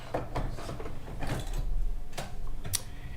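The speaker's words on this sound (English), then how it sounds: "Next, we're going to reinsert our hoop." An embroidery hoop being slid back into an embroidery machine, a series of faint plastic clicks, knocks and latching snaps at close range with no talking.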